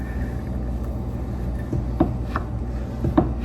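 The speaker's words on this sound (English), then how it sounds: "I'm just doing this with a butter knife so it doesn't scrape my pan." Firm no-bake peanut butter bars being cut with a butter knife in a pan, several soft dull taps and scrapes against the pan bottom over a low background rumble.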